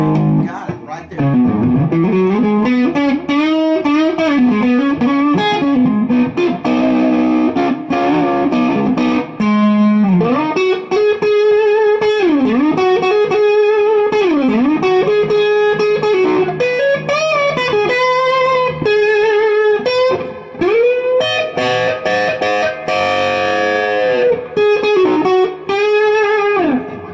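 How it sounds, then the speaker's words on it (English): An Agile 3200 electric guitar rings out through a heavy distortion effect, playing sustained, bending notes and chords loudly for the whole stretch. "You got distortion. See, you got it right there."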